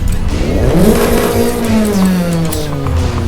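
Toyota AE86 engine in Forza Horizon 5 fitted with an upgraded intake and air filter, revving up and down in loud rising and falling sweeps for several seconds, with no talk over it.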